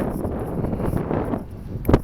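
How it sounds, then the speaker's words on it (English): Wind blows outdoors and buffets the microphone with a loud, rumbling roar that swells in gusts, and there is a sharp knock near the end. "It's getting windy out here."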